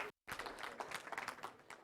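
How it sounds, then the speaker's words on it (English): An audience at a college new-student convocation claps after a brief silence, a dense spread of hand claps with loud individual slaps running steadily to the end. "Clap it up for our young adults or young adults."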